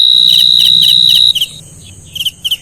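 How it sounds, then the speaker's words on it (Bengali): Crickets chirp in loud, high, pulsing bursts over a sustained shrill tone, which stops partway before the chirping returns in short groups. "শুধু ঝিঝি পোকার শব্দে মুখরিত থাকতো সেই ছোট্ট গ্রামটি।"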